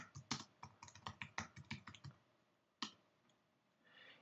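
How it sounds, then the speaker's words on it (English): Crisp clicks of typing on a Mac computer keyboard, a quick run of close keystrokes followed by a pause and a single heavier tap, quiet and alone with no voices. "So if I type in down"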